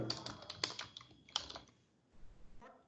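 Keys on a computer keyboard clack in quick irregular clusters, soft and close, then pause briefly before a final short burst of typing.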